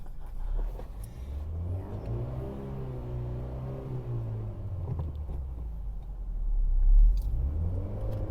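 A driving-test car pulls away after the brake is released, a steady low engine rumble building gradually and swelling toward the end, close and fairly quiet, with no voices.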